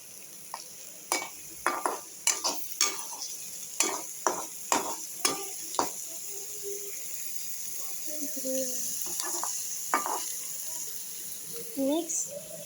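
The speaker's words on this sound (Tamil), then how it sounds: "நல்லா போட்டு வதக்கிக்கலாம்." Onion and green chili stir-fried in a pan while cooking an egg dish, with sharp repeated spatula scrapes and knocks in an irregular rhythm over a soft, steady sizzle, close and fairly quiet.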